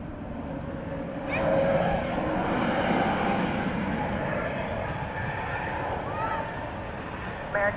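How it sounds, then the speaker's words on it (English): Volaris Airbus A321neo jet at night at Dallas Fort Worth airport, a steady broad engine roar that swells slightly and holds at moderate distance, with faint radio voices over it. "we have Volaris going to Mexico City, Flight 801, Airbus A321 Neo"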